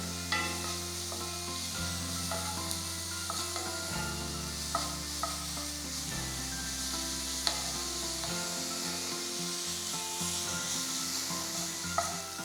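Sliced onions softening in a pan for a beef omelet, a soft continuous sizzle with light stirring scrapes, fairly quiet beneath steady background music.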